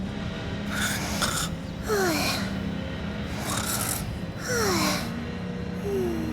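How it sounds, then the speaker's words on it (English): Heavy snoring from a car's passenger seat in a video game, with rasping, snorting breaths in a repeating rhythm of about four cycles, loud and close over a steady background hum. "Heavy snoring from the passenger seat."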